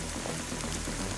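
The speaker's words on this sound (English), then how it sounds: "It's raining, it's hailing." Rain and hail falling outdoors at Lake Texoma in Texas during a team fishing tournament, a steady dense patter close by with a low rumble beneath, no voices.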